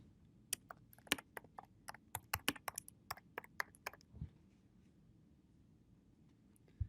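A computer keyboard clatters through a quick burst of uneven keystrokes during data entry, close and crisp, then trails off into near silence for the last few seconds.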